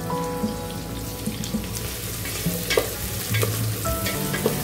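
Crushed garlic frying in a pan for Arabian chicken kabsa gives a continuous close sizzle and crackle, with scattered pops and a few light utensil taps over it, no talking.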